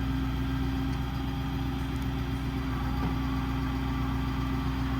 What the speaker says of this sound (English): You select your function first, and then you pull the trigger to run the crane